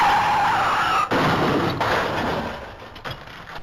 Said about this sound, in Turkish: Buradan birden bir fren sesi duydum.